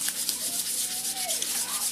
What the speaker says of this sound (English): Just sand them smooth as much as you can.